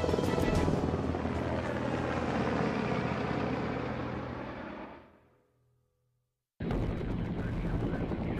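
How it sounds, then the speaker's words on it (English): Loud, steady rotor thrum of a US Army Black Hawk twin-turbine helicopter flying close, fading out to silence, then cutting back in abruptly. "The Black Hawk."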